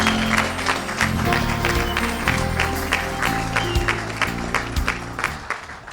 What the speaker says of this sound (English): Round of applause. We did it.